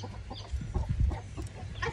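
A disturbed hen clucks in short, agitated bursts from inside a laying box, close and moderately loud, with a low steady hum underneath.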